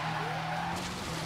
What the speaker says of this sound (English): I slid the car across the road and I slammed